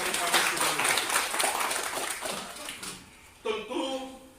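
An audience at a district ceremony in Simalungun Regency claps in a dense, steady wash of applause that thins out, followed by a brief louder sound.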